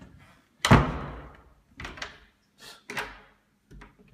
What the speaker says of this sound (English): we can close the door and it works